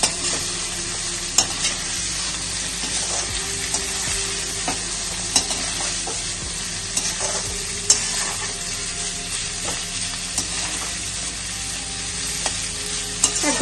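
Chopped onion and vegetables stir-frying for chowmein in a hot pan, a steady close sizzle broken by frequent scraping stirs, with no one speaking.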